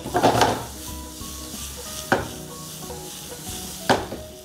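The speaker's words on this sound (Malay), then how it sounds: "Gorengkan semua sekali jalan." Fish and ginger sizzling in a hot wok, with a few sharp metallic scrapes and clanks of a spatula stirring at intervals.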